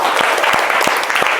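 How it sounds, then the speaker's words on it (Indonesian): A class of students applauds a classmate with a short, dense burst of clapping that is loud and close, with no voices over it. "silakan tepuk tangan untuk temannya"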